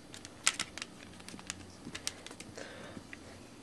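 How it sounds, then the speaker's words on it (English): A packaged slim NES controller being unwrapped, giving faint scattered crinkles and clicks, with a few sharper taps in a quiet room. "let's go ahead and get that unwrapped"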